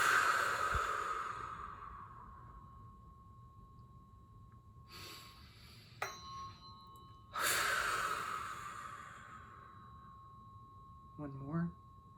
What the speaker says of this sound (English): let's do a couple of breaths like that